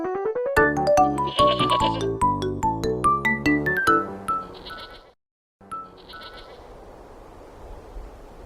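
In an animated children's story about two goats, repeated bleats ring out over a bright, chiming musical jingle, then the tune drops away briefly and a softer hiss continues.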